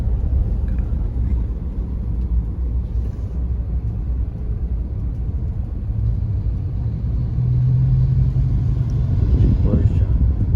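A Porsche passes on a street in Thailand, heard as a steady loud engine rumble and road roar that swells slightly near the end, with voices talking over it.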